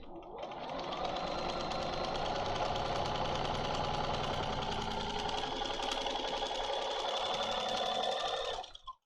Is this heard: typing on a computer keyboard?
no